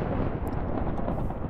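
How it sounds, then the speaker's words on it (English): Thunder rumbles in a modded Minecraft game on the Nebulous FTB modpack, a loud, deep, continuous rolling roar that fills the short moment with no talking. "But we do have to hear the thunder, I guess."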